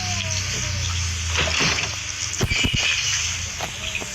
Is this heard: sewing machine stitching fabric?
no